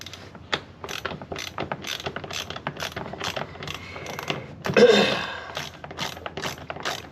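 A ratchet fitted with a 3/8 socket clicks in quick, repeated bursts while removing the window motor bolts on a Fox Body Mustang. The mechanical clicking is close and steady, with a louder stretch of turning near the end.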